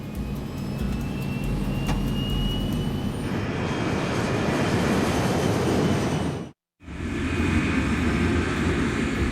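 Boeing 737 airliner jet engines roar at full takeoff power, a loud, broad, steady rumble and hiss, briefly cut by a sudden silent gap before the roar resumes.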